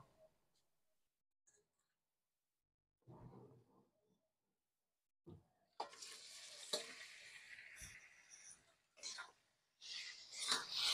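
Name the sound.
washed chicken added to sizzling spices in pan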